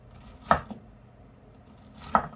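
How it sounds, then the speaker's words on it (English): A knife dices shallots on a cutting board, producing two sharp, close chopping knocks about a second and a half apart over a quiet background. "With shallots, you have to cut this way also if you want them to be nicely diced like that."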